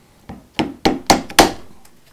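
A hardwood wedge is tapped to drive a handle off a woodcarving tool: five sharp wooden knocks, close and growing louder, at a fairly even beat, with a faint final tap.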